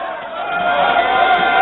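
Uproar in the Lok Sabha, India's lower house of Parliament, with many members shouting over one another in a dense, steady wall of voices that carries on throughout.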